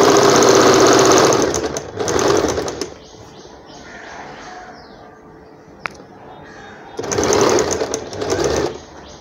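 A sewing machine stitches an umbrella frock's fabric in loud rapid bursts: a long run, a short one, a quiet gap with a faint click, then two more whirring runs.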